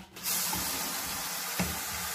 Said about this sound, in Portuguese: Pego a água com o chuveirinho, ó.